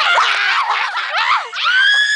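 A woman screams in several loud, high, wavering bursts at close range, ending in a long, piercing sustained shriek.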